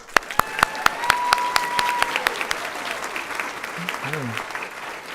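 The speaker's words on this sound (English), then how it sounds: "Let's do one more round of applause." An audience claps at the MEDEX Seattle Class 55 graduation ceremony in 2023: a steady round of applause with sharp, distinct claps standing out near the front, plus a few whistles and voices mixed in.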